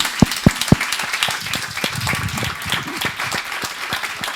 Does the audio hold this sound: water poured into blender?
no